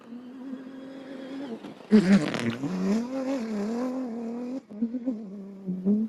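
A rally car, the number 200 of the Abu Dhabi Desert Challenge, pulls away from the desert start line with a sudden loud engine roar and revving that holds for a couple of seconds before settling back to a steady idle drone.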